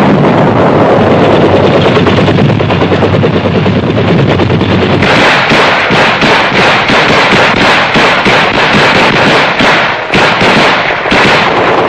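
Vietnam War gunfire from a 9th Infantry Division operation in 1968, a loud, dense roar giving way to rapid bursts of sharp cracks and automatic fire over continuous rumbling noise, with no voices.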